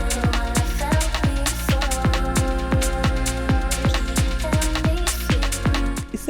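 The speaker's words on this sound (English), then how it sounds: "So we have this high bell, very shimmer synth sound" A high, shimmering synth bell built from a basic sawtooth patch rings in quick repeated plucks over a steady percussive groove, bright and sustained within a full electronic mix.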